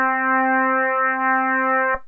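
An FM synthesizer pad holds one sustained, harmonically rich tone with a slow, gently wavering detuned modulation, steady and clear for about two seconds before cutting off abruptly.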